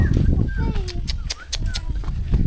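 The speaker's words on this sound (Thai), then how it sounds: "ได้ยินเสียงไก่คันแล้ว" Chickens cluck and call close by in a rural garden, a steady run of overlapping fowl cries and honk-like squawks with no pauses.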